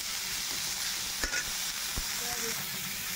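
Lentils fry in a hot pan with salt and turmeric, producing a steady loud sizzling hiss with a couple of faint utensil taps.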